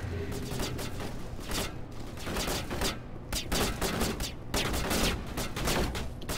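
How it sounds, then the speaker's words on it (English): Sustained gunfire in a Mass Effect firefight, with dense overlapping rapid shots in irregular bursts, loud and close throughout with brief lulls between volleys. "Where are they shooting?"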